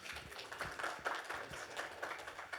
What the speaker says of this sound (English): Can we get another round of applause for Colin, please?